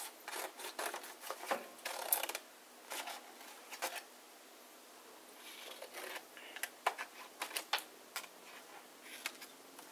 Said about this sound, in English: So you're going to cut the corners out, but you're going to need to leave just enough for flaps